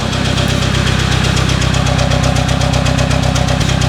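A loud, close BMW 4 Series engine, prone to overheating and smoking, idles with a rough, rapid knocking pulse running steadily throughout, with no one speaking.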